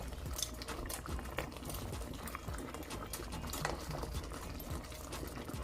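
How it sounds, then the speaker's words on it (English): Salmon sauce of onion, scallion, garlic and pimento simmering in a pan, a faint steady bubbling and crackle with soft clinks throughout. "I'm just gonna let this simmer down for like 4 minutes"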